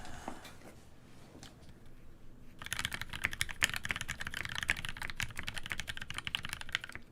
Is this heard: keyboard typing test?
yes